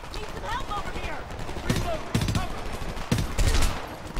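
Sharp bursts of gunfire in the shooter Homefront, several distinct loud shots spaced through the stretch with a dense cluster near the end, while a voice talks underneath.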